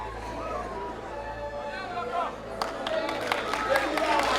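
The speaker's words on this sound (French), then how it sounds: "Un applaudissement très très fort." An audience at a young talent film awards ceremony applauds a best actor winner, with crowd murmur and talk at first and then a burst of dense clapping that builds and continues to the end.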